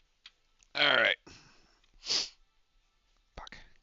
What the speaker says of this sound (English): Gotta sneeze.